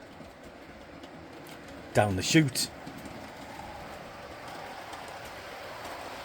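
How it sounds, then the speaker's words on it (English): A model train runs along a layout track, giving a faint, steady rolling rumble throughout. A brief burst of speech interrupts it partway through. "off the train goes on its journey"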